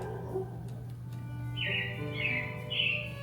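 A few short robin song phrases, bright chirps in three bursts, heard over a steady low hum with faint clicks, at the Carousel of Progress attraction in Magic Kingdom, Walt Disney World.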